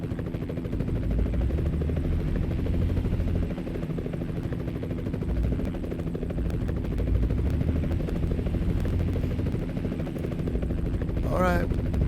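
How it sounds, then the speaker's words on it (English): A helicopter drones steadily throughout, a continuous loud rotor rumble with a faint rising chirp near the end. "Alright, let's look at that chopper."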